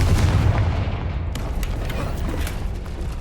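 A Confringo fire spell detonating in Hogwarts Legacy, a dense booming blast with a sustained rumbling roar that fills the whole stretch, loud and close.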